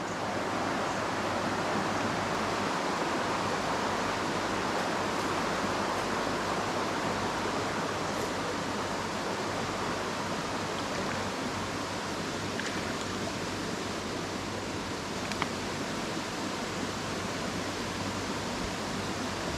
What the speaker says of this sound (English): I know it's in flood, so it's a bit busier water than normal